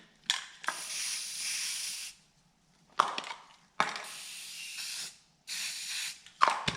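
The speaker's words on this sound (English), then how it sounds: "I don't have that, so we're using spray paint." Spray paint hisses from a can into a paint mix for repainting old teal decoys, in four close bursts of one to two seconds separated by short pauses, each starting with a sharp click.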